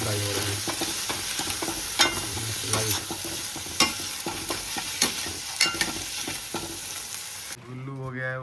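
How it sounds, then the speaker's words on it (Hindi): Chickpeas fry in a pan on a home stove, with a loud, steady sizzle broken by regular scraping knocks as they are stirred. A brief tonal sound comes in at the very end. "चने फ्राई हो रहे हैं।"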